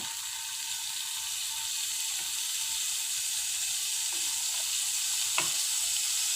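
Butter sizzling on a hot tava pan for pav bhaji, a steady bright hiss holding evenly with one small clink near the end, close and with no talk.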